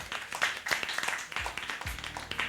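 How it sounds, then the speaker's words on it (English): Scattered, fairly light clapping from a small workshop audience, uneven individual claps across a couple of seconds with low murmuring beneath. "can we get a round of applause for Bayu?"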